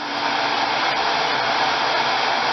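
A heat gun heats the plastic airbox of a motorcycle, giving a steady, loud broadband blowing roar that holds constant throughout with no talking.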